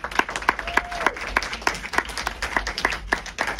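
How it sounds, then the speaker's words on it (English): Applause from an audience after a documentary screening and Q&A at a film venue, sparse distinct handclaps in an uneven rhythm, close and clear with no voices. "So let's give them an extra round of applause for that."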